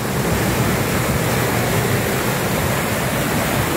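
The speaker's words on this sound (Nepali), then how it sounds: "गजबले पानी आइरहेको छ" Water roars steadily over a drinking-water project dam at Khardu, a dense, unbroken rushing wash that stays loud and close the whole time with no voices.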